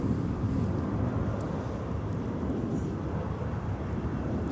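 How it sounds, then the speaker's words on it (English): A Delta airliner taking off from runway 30 Right at Minneapolis–St. Paul airport across the terminal, a distant steady low jet roar blended with wind buffeting the microphone, no speech. "In the shot now, Delta 1602, departing the runway across the terminal from us"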